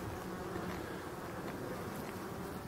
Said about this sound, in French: On voit que les abeilles avaient commencé à bloquer là, à l'arrivée du frelon.